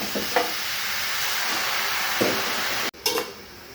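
Chopped pumpkin greens land in a hot wok and are stirred, giving a steady loud sizzle with scraping stir strokes and a sudden clatter near the end.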